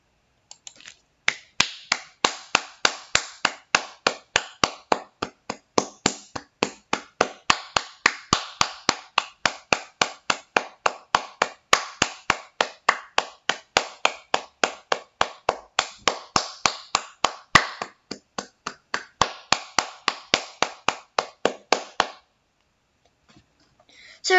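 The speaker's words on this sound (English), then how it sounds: "So in this part, we're just going to clap all the time" Hands clapping over and over in a steady, fairly even rhythm, sharp close-up claps recorded as samples, continuing for about twenty seconds before stopping.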